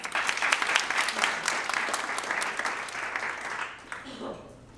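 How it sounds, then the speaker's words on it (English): An audience applauds at a real estate mastermind session, brisk, dense clapping that slowly tapers and fades out, with a voice speaking near the end. "Let's give her a round of applause."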